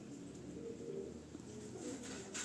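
Domestic pigeons coo softly in a low, rolling murmur, faint and fairly close, over a steady background hum with a brief brighter chirp near the end.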